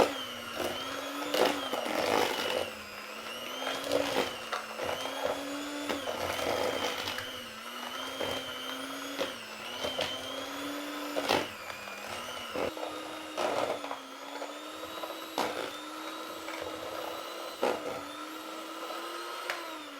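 An electric hand mixer whirs steadily through a peanut butter cookie mixture with vanilla powder. The pitch dips and recovers repeatedly as the beaters meet the thick dough.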